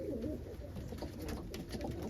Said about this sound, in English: It's a really nice bird. It's like a dilute almond.